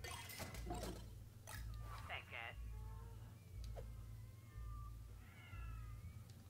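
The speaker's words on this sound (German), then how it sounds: "Wir können leider keine der Katzen befreien." Caged cats meowing in a South Park video game, several short meows and a wavering yowl over a low, pulsing electronic hum, fairly quiet.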